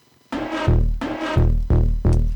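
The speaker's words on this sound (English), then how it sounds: "So it's kind of a high-passed Reese filtered thing." A high-pass filtered Reese bass synth from a drum and bass remix plays alone, loud and close, as four sustained, gritty, buzzing notes in a steady rhythm, each swelling in.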